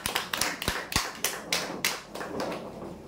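Applause for prize winners at a Marathi lucky-draw event: a run of sharp, close claps arriving in irregular bursts, loud and without talk, tapering slightly toward the end.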